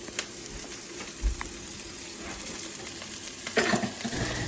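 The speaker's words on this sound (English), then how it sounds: "we're gonna just let that sizzle for a few minutes" Chicken sizzles and fries steadily in a pan for a spinach and artichoke chicken bake, a constant close crackle with occasional stirring scrapes.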